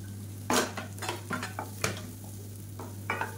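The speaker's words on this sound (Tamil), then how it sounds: "இப்போ இதையும் சேர்த்து நல்லா வதக்கி விட்டுக்கலாம் லேசாக." Onion and green chillies sauté in a pan: spatula scrapes and metallic clinks come in short bursts over a faint sizzle and a steady low hum, fairly quiet and close.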